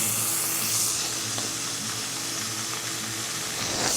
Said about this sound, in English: I'm just going to put a couple of tablespoons of olive oil in there.